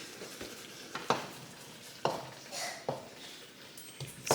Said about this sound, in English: So we're going to let this cook for a little bit. Kind of soften up the onions.